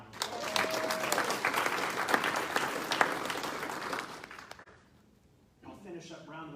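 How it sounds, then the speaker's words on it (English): Audience applause, dense clapping from a crowd that holds steady for several seconds, then fades to quiet before a voice speaks at the end. "let's give them a big round of applause"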